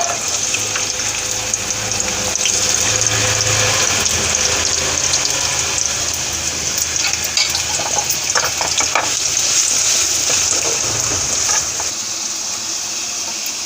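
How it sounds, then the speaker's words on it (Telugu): Chopped onions and green chillies frying in hot oil in a kadai for beans coriander curry, a loud continuous hiss and crackle with occasional stirring scrapes, fading slightly near the end. "ఇప్పుడు ఆయిల్ వీటెక్కిందండి, ఉల్లిపాయ పచ్చిమిరకాయలు వేయించుకోవాలి."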